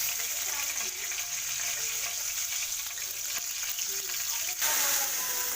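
A bay leaf dropped into a little hot oil in a pan sizzles and crackles in a steady, moderately quiet hiss, with a slight surge near the end.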